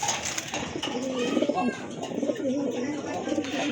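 Domestic pigeons, a male and a female pair, coo in low, rolling repeated calls close by, overlapping throughout with a person talking.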